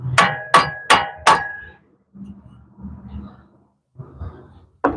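Four sharp metallic hammer blows on the front suspension control arm of a 2010 Chevy Malibu ring out in quick succession, loud and close, followed by quieter shuffling and clanks, then a final hit.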